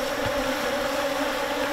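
Giant honey bees (Apis dorsata) pouring out of a wild forest nest during a honey harvest, making a dense, steady buzzing drone that fills the whole clip at close range, with no voices.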